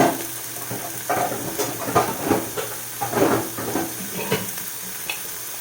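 Wild boar burgers sizzle and hiss steadily in a hot pan, with scraping and stirring clatter across the sizzle and no talking.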